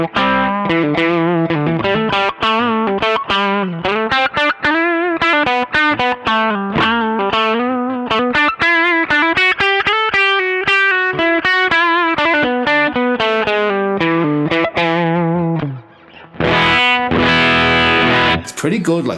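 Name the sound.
electric guitar through Nobels ODR-1 overdrive pedal, low gain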